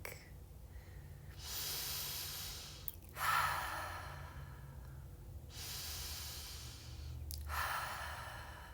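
Slow, steady breaths in and out during prenatal yoga shoulder circles, each long soft exhale rising and falling in a calm rhythm, close and quiet with no talking.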